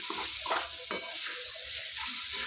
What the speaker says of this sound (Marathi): थोडंसं शेंगदाण्याचा कूट टाकला आहे छान हलवून भाजी रेडी